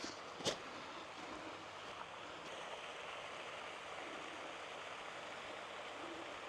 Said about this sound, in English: Nice to see the water features on.